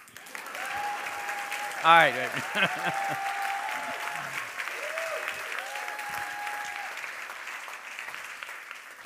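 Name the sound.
audience clapping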